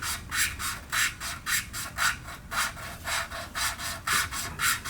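An engine valve from a 1990 Onan P218 engine is lapped with valve lapping compound, giving a rhythmic gritty rasping back-and-forth scrub about twice a second, close and alone.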